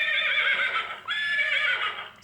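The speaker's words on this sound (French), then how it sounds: "Ici, nous avons les chevaux." Horses neigh in two loud, drawn-out whinnies, one right after the other and close by, with a short break between them and no voices, sounded from an animated animal picture book.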